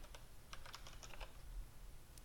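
Typing on a Mac computer keyboard to enter a terminal command, a quick, uneven run of light key clicks heard up close and faint against quiet room noise.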